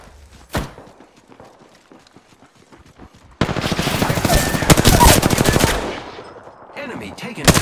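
Rapid automatic gunfire from the video game Apex Legends erupts in a loud sustained burst after a single sharp shot and quieter footsteps, then tapers off near the end.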